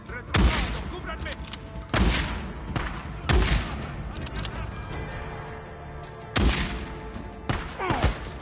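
Loud gunshots crack out in separate bursts, roughly every second or two, with shouting voices in between and a busy background of battle noise in the video game Days Gone.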